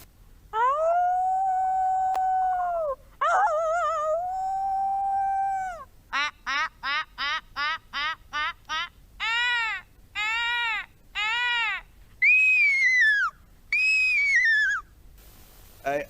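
A schoolgirl doing zoo-animal mimicry at a Kerala school arts festival voices four animals: long wavering howl-like cries, a fast run of short whistled calls, then rising and falling squeals, all clear and close.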